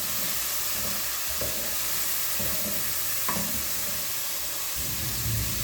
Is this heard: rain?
no